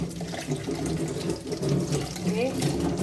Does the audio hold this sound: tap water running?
yes